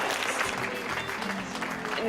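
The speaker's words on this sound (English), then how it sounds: "Please, one more round of applause to every single one of our panelists." Applause from a panel-event audience, a steady wash of clapping that runs the whole stretch at moderate level, with a voice faintly mixed in.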